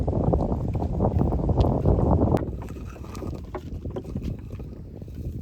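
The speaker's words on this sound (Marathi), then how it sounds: "इकडे चालले होडी जाळा टाकायला।" A small fishing boat heads out across a dam reservoir to cast a net, giving a steady low rumble and water wash with wind buffeting the microphone; it is louder at first, then eases to a softer churn.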